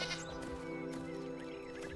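A goat bleats in Enshrouded, a wavering, nasal cry that is clear and fairly close with no one speaking.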